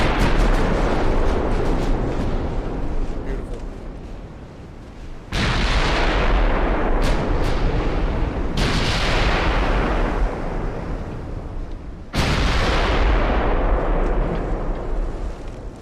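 Warship secondary guns firing in the naval game Ultimate Admiral, three heavy booming volleys, each a loud sudden blast that rolls on and slowly fades, with lighter crackling shots between them.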